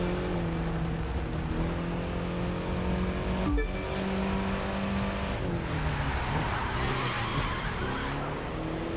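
Racing-game car engine drones steadily, its pitch climbing and falling through gear shifts, with tire skids and loud wind rush across a continuous driving stretch; no talking.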